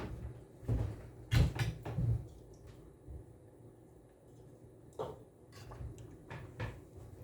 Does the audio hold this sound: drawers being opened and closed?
yes